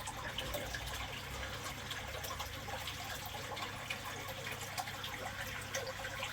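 Water splashes and rushes steadily as a lively fish, about 25 cm long, goes into a sleeper pond at a fish show. The sound stays fairly loud and continuous throughout, with no talking.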